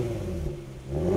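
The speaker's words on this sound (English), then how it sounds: "already the car has just started and that motor sounds so" A 2015 Infiniti Q60S with a V6 idles just after push-button start, a steady low engine rumble close by that swells slightly at the end.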